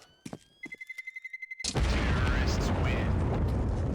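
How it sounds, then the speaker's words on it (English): A bomb detonates on the Inferno map in a Counter-Strike match, preceded by rapid beeping that quickens, then a loud broadband blast that rumbles on and fills the rest of the moment. "The explosion is glorious."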